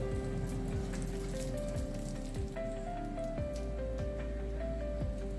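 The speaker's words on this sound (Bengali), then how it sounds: "বড় এলাচ, লবঙ্গ, দারচিনি, ছোট এলাচ আর জয়ত্রী। এগুলো তেলের মধ্যে দিয়ে দিচ্ছি।" Whole spices (black cardamom, cloves, cinnamon, green cardamom and mace) dropped into hot oil in a pot for peas pulao, giving a steady dense sizzle and crackle throughout, with a faint tonal hum underneath.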